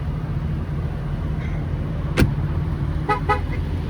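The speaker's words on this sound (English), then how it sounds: "Sorry about the noise level here. We're at a truck stop." Constant low traffic rumble at a truck stop fills the background, broken by a sharp car horn toot and then two quick honks further off.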